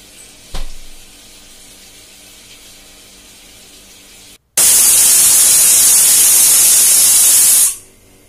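A kitchen mixer grinds roasted rice into a fine paste, a loud, even whirring roar that starts abruptly, runs for about three seconds, then cuts off, after a quiet lead-in with a single knock.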